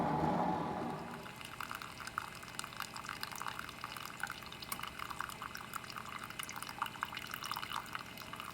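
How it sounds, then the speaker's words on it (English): Water pours into a glass with ice, starting with a brief louder splash and then settling into a steady, close trickle and gurgle of filling liquid with small drips, and no one talks. "I put a little extra water in it, throw some ice in there."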